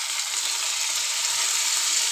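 Tomatoes dropped into hot oil with fried onions, giving a loud, steady hiss of sizzling that stays constant throughout, close up and uninterrupted by voices.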